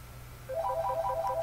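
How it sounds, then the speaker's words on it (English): A mobile phone ringtone playing close by, a repeating melodic pattern of bright electronic tones that starts abruptly and continues steadily over a low background hum. "Sorry, my phone was ringing there."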